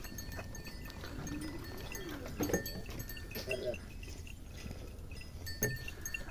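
Russian teddy goats on a goat farm let out a few short, soft bleats against a busy background of farmyard noise, with a faint clink and someone talking nearby.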